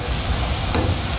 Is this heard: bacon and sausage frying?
yes